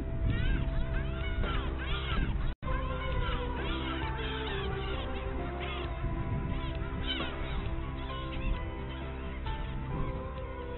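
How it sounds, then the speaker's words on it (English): Waterfowl of a nesting colony on a small lake island call continuously, a dense din of overlapping honks, caws and cries at steady loudness, some near and some farther off. "Thousands of waterfowl nest on the lake's small islands."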